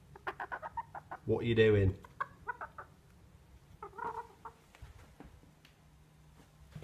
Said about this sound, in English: bought this nice lodge for honeymoon, and there is a chicken in here.